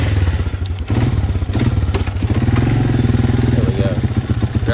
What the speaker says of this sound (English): I can't start the four-wheeler and drive at the same time.